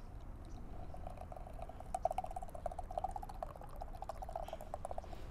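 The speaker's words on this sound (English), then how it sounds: "All right, beer slushies pouring." Beer slushie, a pale ale, being poured, giving a steady gurgling, fizzy stream that runs continuously over a low background hum.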